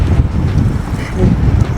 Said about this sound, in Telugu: ఫుల్ విండ్స్ ఉన్నాయి అసలు